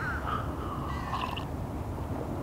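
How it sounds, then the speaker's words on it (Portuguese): Crows cawing outdoors near a lake in Brazil, a few harsh calls at moderate distance over a low rumble of background noise, with no one talking. "Tem muito pássaro também"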